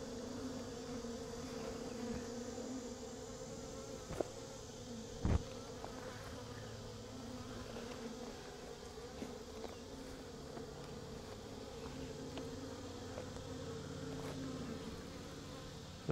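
A small honeybee swarm hums inside its hive, a steady low buzzing drone held throughout at a fairly quiet, close level, with a couple of brief knocks partway through.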